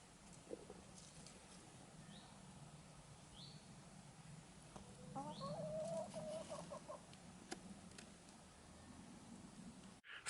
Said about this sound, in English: So the chickens are happy,